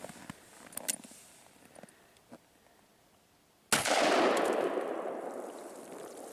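A Ruger Alaskan .44 Magnum revolver fires one Buffalo Bore 340-grain +P+ round into a watermelon, a single sharp, very loud blast with a ringing decay after a few seconds of faint clicks and near silence.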